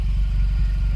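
A VW Polo 1.4 FSI fitted with a custom PowerFlow stainless steel exhaust and a sports cat idles steadily, a close, even low engine burble with a regular pulsing throb and no voices.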